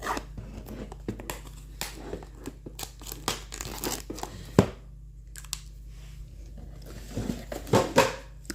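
Paper packaging of a DP kit crinkles and tears open in repeated short rustling bursts, close and fairly quiet, with a louder rip partway through and more crumpling toward the end.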